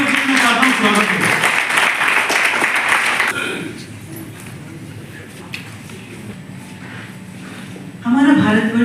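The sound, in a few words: audience applause welcoming Sonali Sharma on stage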